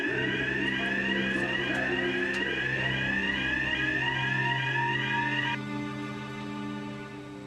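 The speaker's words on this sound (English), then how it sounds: "Do you remember how to set the fire alarm?" Fire alarm sounding during a test, a loud continuous electronic warble with rapidly sweeping tones over a steady buzzing hum, the sweeping part cutting out near the end while the hum carries on.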